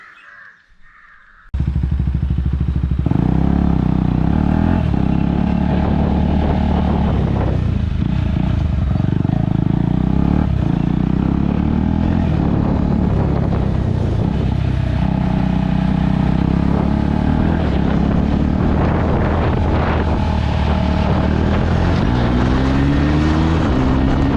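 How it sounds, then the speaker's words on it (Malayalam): A KTM Duke 250 BS6 motorcycle engine runs with its exhaust muffler removed, starting after a quiet moment into a loud, raw, close rumble that idles unevenly with occasional revving swells throughout. "ആ മഫ്ലർ ഇളക്കിയപ്പോൾ എങ്ങനെ ശബ്ദം ഉണ്ടാകും എന്ന് നിങ്ങളൊന്ന് കണ്ടിട്ടുണ്ടാവും"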